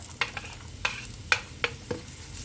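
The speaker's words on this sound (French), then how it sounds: "Je la mets à chauffer et je verse mes oignons." Onions cook in heated olive oil under a soft background sizzle, while five sharp, evenly spaced clicks or taps of a utensil ring out close by with no talking.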